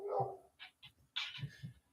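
A dog let outside is heard faintly in short bursts, a whine followed by several yips and barks, distant and quiet with no talk.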